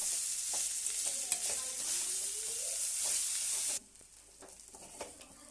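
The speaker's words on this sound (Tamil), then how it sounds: "இப்போ இந்த உதுத்து வச்ச இட்லியை இதில் சேர்த்துடலாம் சேர்த்துட்டு ஒன்றா நல்லா திரட்டி விட்டுறலாம்" Crumbled idli is stirred into fried onions in a pan for idli upma, giving a soft sizzle with scraping spoon strokes. The sizzle drops sharply partway through, leaving quieter stirring clatter.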